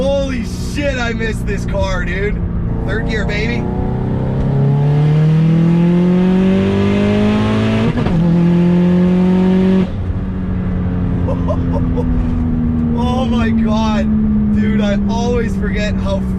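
A loud turbocharged 500 hp Subaru STI engine accelerates hard in third gear, pitch rising steadily through a gear change and climbing again, heard up close with brief talking at the start and end.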